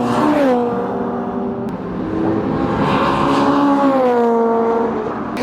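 Tuned cars racing on the Brands Hatch circuit at a tuner festival, a loud engine howling and shifting pitch as it accelerates and passes, with a steady roar that rises and falls.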